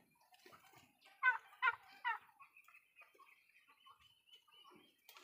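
Young turkey poults peeping in a small enclosure, three loud chirps in quick succession near the start, then softer scattered cheeps and faint rustling.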